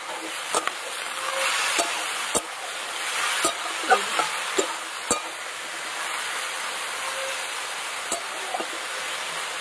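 Onion, potato, beans, carrot and eggplant with turmeric and salt fry together in a kadai, giving a steady soft sizzle broken by occasional sharp ticks of a stirring spoon.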